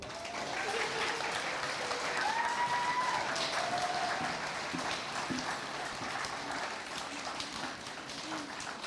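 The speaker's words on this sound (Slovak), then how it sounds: "Nuž teda, potleskom privítame pani riaditeľku Katarínu Balovú." Applause from a crowd welcoming a school director at a Christmas concert of a private art school, steady dense clapping filling the hall for several seconds, moderately loud with some whistle-like tones above.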